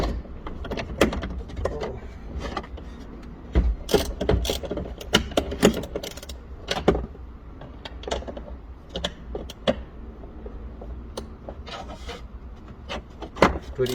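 A 14mm socket wrench works loose the front strut bolt nut on a 1995 Toyota Previa, producing a series of close, uneven ratcheting clicks, creaks and metallic scrapes with brief pauses, and no speech.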